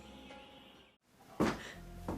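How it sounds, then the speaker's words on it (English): A door opens with a brief creak and a clunk after a moment of near silence, followed by a louder thud and rustling close by. "Open the door."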